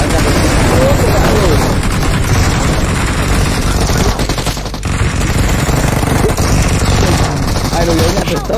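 Rapid gunfire in a parachute-drop shooter video game crackles loudly and almost nonstop, with bursts of automatic fire mixed with indistinct voices.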